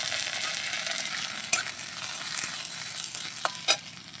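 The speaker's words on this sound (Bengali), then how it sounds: "কাঁচা মশলা, রাঁধুনি, ধনে, জিরে, শুকনো লঙ্কা, তেজপাতা, কাঁচা লঙ্কা আমি একসঙ্গে দিয়ে মশলাটাকে ভেজে নেব" Whole spices, coriander, cumin, radhuni, dried red chillies, bay leaves and green chillies, frying together in oil in a wok, a steady bright sizzle with a few sharp clinks of a spatula.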